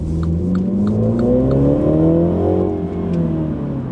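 A 2019 Mini John Cooper Works engine revs up and down steadily, its rising and falling pitch loud and close, with no voices.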